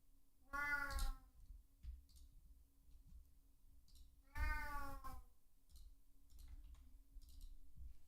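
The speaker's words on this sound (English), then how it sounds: "A little bit of a meow." A cat meows twice indoors, two drawn-out cries a few seconds apart, moderately close against a quiet background with a low steady hum and faint clicks.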